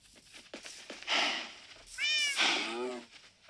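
A cat in a video game meows twice, the second call clear and drawn out with a rising and falling pitch, close and fairly loud, preceded by softer clicks and short noises.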